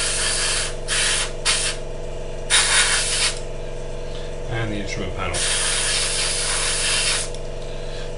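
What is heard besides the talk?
airbrush spraying paint on model kit parts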